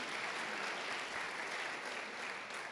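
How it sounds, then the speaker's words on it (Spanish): A church congregation applauds during a sermon, a soft, even wash of many hands clapping, steady and fairly distant throughout. "Démosle un aplauso a Él"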